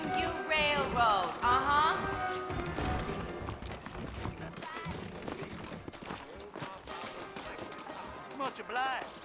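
Horse hooves clip-clop in the Red Dead Redemption video game, a steady rhythmic trot running under continuous talk and game music throughout.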